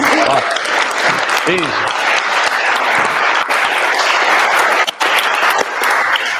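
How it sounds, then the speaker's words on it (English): A live audience breaks into loud, sustained applause with dense clapping filling the whole stretch, while someone speaks briefly over the noise near the start. "give him a round of applause"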